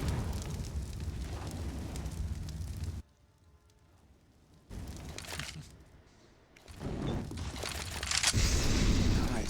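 Grenade blast in a CS:GO match at a Heroic vs Virtus.pro esports tournament game, heard as loud broadband booms and rumbling bursts with a brief quieter gap between them.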